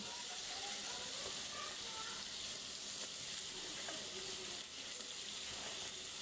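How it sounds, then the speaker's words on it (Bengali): Fish frying in hot oil in a pan during home cooking, a steady broad sizzling hiss that holds at an even level throughout, with no voices over it. "এ পর্যায়ে আমি মাছগুলো দিয়ে দিব।"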